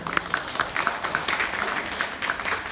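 An audience claps at a farm show performance, a light, scattered patter of hands that stays moderate and continuous throughout, with no voices heard.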